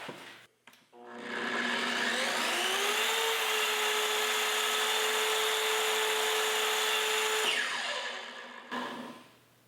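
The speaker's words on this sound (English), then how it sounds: "Plunge the saw. We're still set at 1/4 inch. It's on the track." A Kreg track saw running on its track as it plunges into a workpiece set for a quarter-inch cut: a loud, steady high-pitched whine that spins up, holds for several seconds, then winds down, with no talking.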